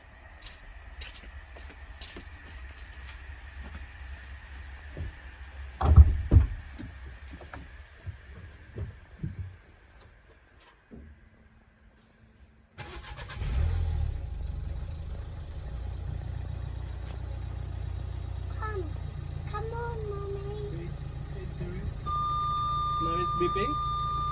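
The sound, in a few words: Nissan Qashqai J11 parking sensor beeping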